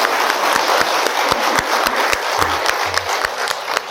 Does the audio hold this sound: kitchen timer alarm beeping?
no